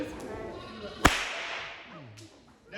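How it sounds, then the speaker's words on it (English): A whip is cracked once at a wildlife park, a single sharp, loud snap rising out of background murmur, with sheep bleating faintly around it. "This is how we crack the whip."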